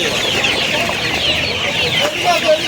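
Chickens cluck steadily at a busy poultry and pet market in Uluberia, with black hens and silkie birds among them; the flock sound is continuous and mid-distance, with crowd noise around it.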